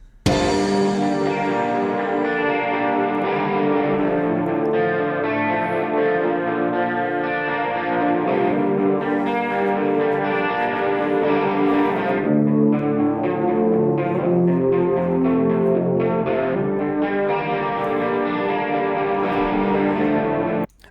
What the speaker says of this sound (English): Oh, clean guitars?